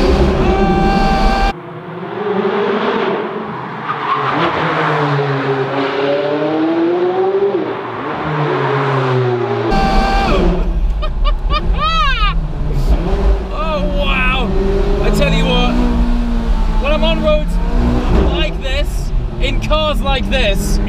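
A McLaren 540C sports car engine revs and pulls hard on a narrow mountain driving road, its rising and falling notes loud and close, with a brief cut near the start and people talking over it throughout.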